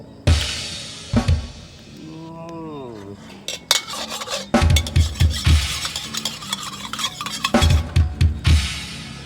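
Small freshwater shrimp dry-roasting in a pan for dry tom yum, with clattering scrapes and clinks of a utensil against the pan in irregular bursts, close up, and a brief muffled voice early on.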